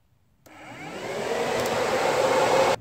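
Electric radiator cooling fans on a modded Ford 5.0 switch on for a test run, a sudden close whirring blast of air that holds steady and loud for about two seconds before cutting off abruptly.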